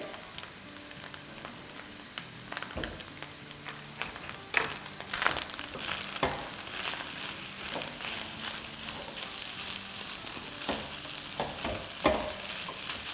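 Rice being sautéed and stirred in a pan for butter garlic rice, with a steady low sizzle under repeated scraping and knocking of a spoon against the pan, some sharper clacks standing out.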